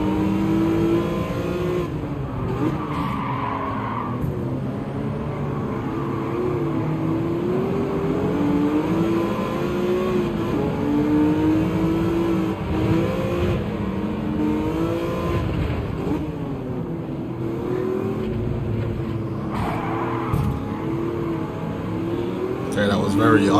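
Race cars in Gran Turismo 7 on PS5 drone and rev continuously as they jostle and overtake, a loud steady engine whine shifting in pitch, with someone talking over it throughout.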